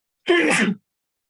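A single short sneeze, close and fairly loud, lasting about half a second against silence.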